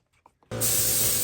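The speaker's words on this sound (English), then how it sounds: "let's fire up the booth here and try spraying this" A few faint clicks, then a spray gun bursts on with a loud, steady, close hiss of spraying metal flake paint in a paint booth that continues to the end.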